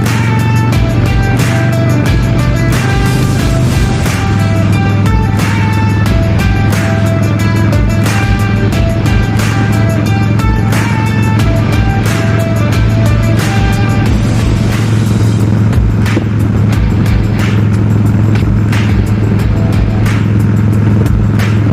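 Harley-Davidson Softail Springer with Big Shot Staggered exhaust on a ride to work, heard from the rider's position as a steady loud rumble of the engine mixed with wind noise.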